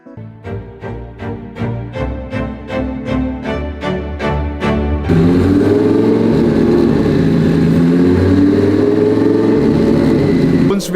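A Lamborghini Gallardo engine in a dyno cell blips through about a dozen short, sharp revs in quick rhythm, then settles into a loud, continuous rumbling hold, close and dominant throughout.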